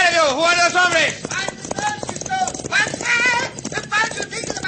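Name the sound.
horses galloping in radio drama stampede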